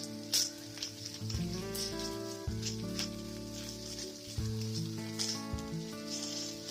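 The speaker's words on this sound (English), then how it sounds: "So first, I'm spraying some coconut oil in a pan and we're gonna fry our turkey bacon." Turkey bacon crackles and sizzles in sprayed coconut oil in a cast iron pan over medium-high heat, a soft continuous frying hiss with faint pops under background music.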